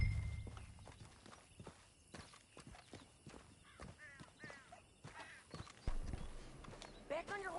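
Horse hooves clip-clop in Red Dead Redemption 2 as a rider walks and trots, with a horse whinnying and someone talking over the quiet, uneven hoofbeats.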